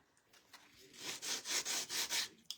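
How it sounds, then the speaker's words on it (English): Sandpaper pads rubbed in a series of about five steady back-and-forth strokes, a close, hissy scraping with short pauses between strokes and no talking. "I grabbed a whole bunch of these sandpaper pads."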